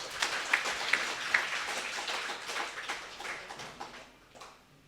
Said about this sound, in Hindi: आप उन्हों के लिए ताली बजाओ